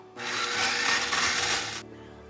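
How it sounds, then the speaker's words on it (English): An old coffee grinder used as a spice grinder whirs loudly and steadily for about a second and a half, finely grinding chili spices up close, then stops. "I pulled out my old coffee grinder that I use for a spice grinder and finished it down a little finer than I wanted."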